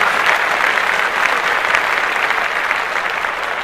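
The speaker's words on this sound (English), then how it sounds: "Clap that shit up." Dense applause fills the room during a podcast, many people clapping together in a continuous loud wash with no pauses.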